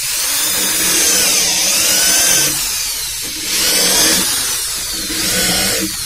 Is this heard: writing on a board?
no